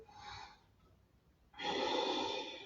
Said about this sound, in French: On inspire dans la gorge et on expire dans la gorge.